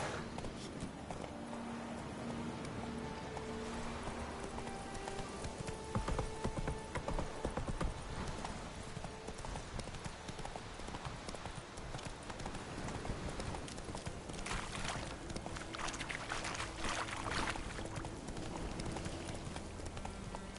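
Roach, Geralt's horse in The Witcher 3, gallops with a dense, steady drumming of hooves that runs throughout under game ambience, loud and close.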